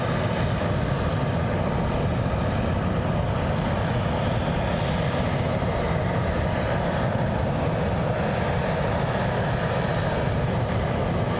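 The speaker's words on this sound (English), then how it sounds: "Cessna citation" Cessna Citation business jet at Glasgow International Airport, a steady broadband engine roar holding at constant loudness throughout, with no voices.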